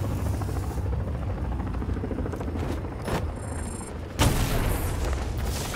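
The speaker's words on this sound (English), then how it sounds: "I don't know how the fuck to take out a helicopter." In Batman: Arkham Knight, a helicopter's rotor thumps steadily through combat noise, with sharp bursts and an explosive boom near the end that makes it louder and denser.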